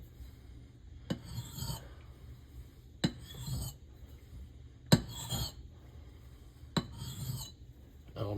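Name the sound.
axe being honed on a Belgian coticule stone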